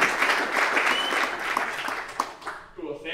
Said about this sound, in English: let's big round of applause and thank them for helping us